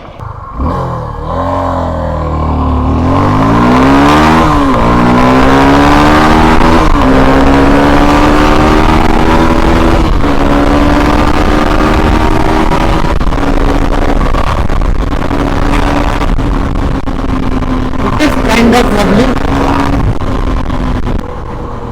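A Suzuki V-Strom 250 SX motorcycle at highway speed, over 100 km/h, its engine note rising and falling through gear changes under steady loud wind rush, close and continuous with no talking.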